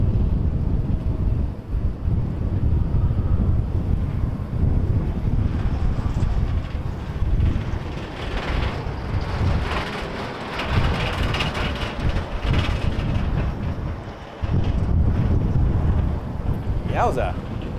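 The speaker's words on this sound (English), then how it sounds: "Actually getting a bit gusty up on this hill." Strong gusts buffet a microphone on a windy hilltop beside Vancouver's airport, a loud rumbling roar that surges and dips in waves over several seconds, with brief lulls between blasts.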